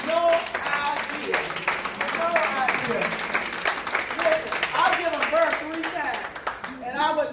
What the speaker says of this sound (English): those of you who are not cancer survivors, we need to applaud these people